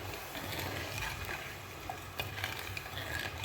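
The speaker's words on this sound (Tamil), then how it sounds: "கடுகு கொஞ்சம் பொரிஞ்செடுத்து" Mustard seeds sputtering and crackling in hot oil in a pan, a steady dense sizzle with scattered small pops, close and moderately loud, no voices.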